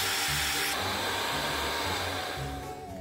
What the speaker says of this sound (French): il va falloir vous munir d'un sèche-cheveux pour sécher chaque couche de latex